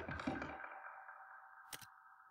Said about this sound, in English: And here on the analog click, you can hear the echo.